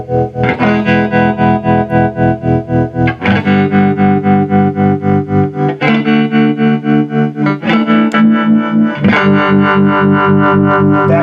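Electric guitar chords through a Fender TreVerb pedal set to harmonic tremolo, a fast steady pulsing throb across several sustained chord changes, loud and close with no talking.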